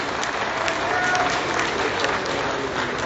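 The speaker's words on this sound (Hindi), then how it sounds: "तो एक बार तालियां बजाएं।" An audience at a Hindi kavi sammelan poetry recital claps in a thick, continuous burst of applause, loud and close, with crowd murmur mixed into the even patter for the whole stretch.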